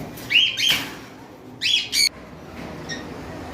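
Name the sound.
cockatiels and lovebirds calling at a bird farm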